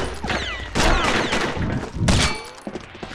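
Loud gunshots crack in quick bursts amid whooshing, chaotic game effects, with two heavy volleys about a second apart.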